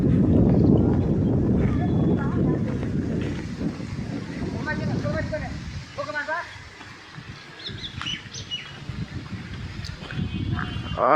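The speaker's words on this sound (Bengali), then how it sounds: "বাতাস, প্রচুর বাতাস।" Strong wind blows across a river among jute fields in rural Bangladesh, a steady broadband rush buffeting the microphone throughout, with voices talking and birds calling faintly at times.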